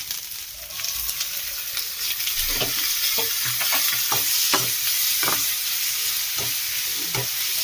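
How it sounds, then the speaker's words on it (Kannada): Tomatoes and green chilies frying in a pan for a chicken fry, with steady sizzling and repeated scraping stirs of a spoon against the pan, close up and with no talking. "ನೆಕ್ಸ್ಟ್ ಇದಕ್ಕೆ ನಾನು ಟೊಮೊಟೊ ಹಾಕೊಳ್ತಾ ಇದ್ದೀನಿ."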